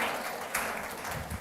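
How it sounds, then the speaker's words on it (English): An audience at a memorial lecture claps for the panelists, giving a dense, steady wash of applause that holds for a moment and swells slightly partway through. "Let's give our panelists a round of applause, please"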